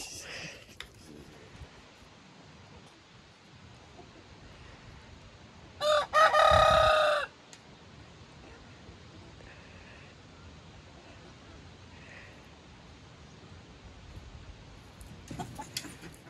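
A young white rooster lets out a single close, loud cock-a-doodle-doo in a quiet homestead setting, preceded and followed by faint background noise.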